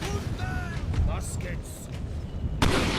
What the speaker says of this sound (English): They're firing the cannons back at them.